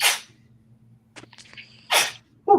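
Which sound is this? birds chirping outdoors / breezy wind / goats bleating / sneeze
sneeze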